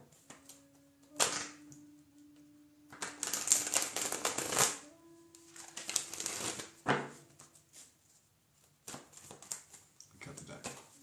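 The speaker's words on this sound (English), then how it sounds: "Cut the deck. Play the energy. Draw." A tarot card deck is shuffled and cut in bursts of riffling and papery slaps, with a steady tone and softer rustles between the shuffles.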